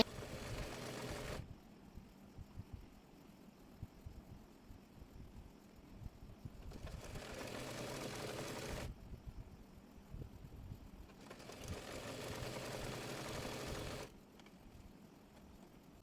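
A sewing machine stitches a ladies' salwar pant in three separate runs of fast, steady mechanical whirring, with quiet pauses between them.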